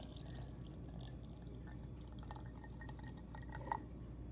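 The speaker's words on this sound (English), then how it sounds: "we are gonna add a little bit of filtered water to this" Filtered water trickles and drips from a pitcher into a glass jar of fruit for homemade brandy, a faint, close pour with small splashes and a brief brighter drip near the end.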